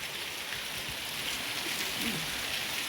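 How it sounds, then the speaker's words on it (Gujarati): Heavy rain pours down on the streets of Bagasra, a steady dense hiss with no break from start to end. Nothing else stands out clearly against it. "બગસરાની અંદર સરસ મજાનો વરસાદ લગભગ 2 થી સવા 2 કલાક પડ્યો"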